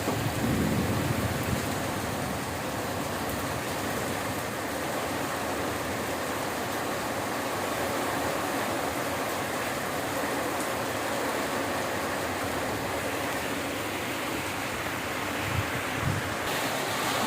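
Heavy thunderstorm with driving rain and wind, a dense, steady roar of rainfall and gusts throughout, with a low rumble near the start and a couple of brief heavier thumps near the end.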